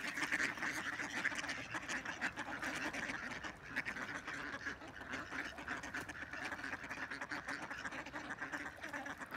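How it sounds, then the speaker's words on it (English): Many ducks quacking together on a stream, a continuous overlapping chorus of calls with a faint background hiss. "Look how many ducks there are."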